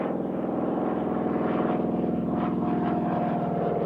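A BT-13 propeller trainer drones at an air show, a steady, moderately distant engine hum with a low, even pulse that holds without change.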